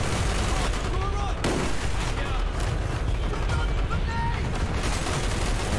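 Sustained gunfire in a Vietnam-era combat scene from Call of Duty: Black Ops, with rapid bursts of shots and explosions layered into a dense, loud battle din that never lets up.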